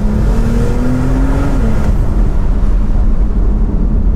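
A Brabus-tuned Porsche 911 Turbo S Cabriolet with a remapped engine accelerating hard, a loud continuous roar rising in pitch then shifting, heard close with heavy rumble throughout.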